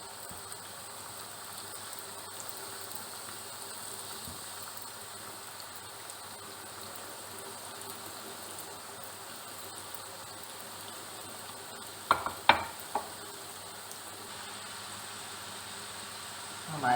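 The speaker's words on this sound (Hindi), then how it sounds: "हम बहुत ज़्यादा तेज़ गरम ऑयल में नहीं डालेंगे और मीडियम फ्लेम पे इन्हें सेकेंगे" Potato wraps fry in hot oil over a medium flame, giving a steady, soft, even sizzle that runs throughout, with a few sharper crackles near the end.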